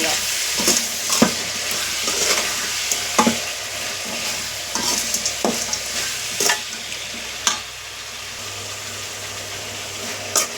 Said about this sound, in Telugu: సాల్ట్ పసుపు వేసిన తర్వాత అంతా మంచిగా కలిసేలాగా కలుపుకోవాలండి